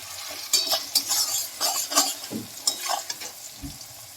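Onions frying in a pan with vinegar for restaurant-style noodles, a soft sizzle under repeated scraping and stirring strokes of a spatula against the metal, close and uneven in rhythm.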